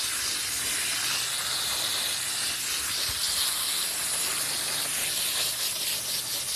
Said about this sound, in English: And I want to water them deep.